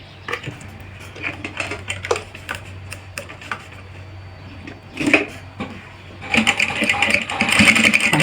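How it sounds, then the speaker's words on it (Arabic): A sewing machine stitches fabric while a decorative trim is sewn onto a bodice. Scattered clicks and short runs lead into a denser, louder stretch of rapid stitching at the end. "نزيد نخيط هذه الجهه"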